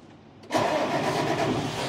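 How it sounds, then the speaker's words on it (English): After a brief quiet moment, a tractor engine turns over and catches, then settles into a loud, steady rumbling idle close by. "and I start the tractor here now"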